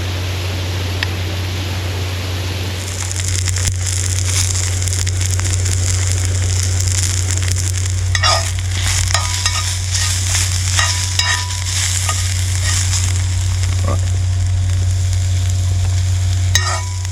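Sliced onions fry in a pan at an outdoor camp in a vineyard, a loud, steady sizzle over a low constant hum, broken by intermittent scrapes and clicks of stirring.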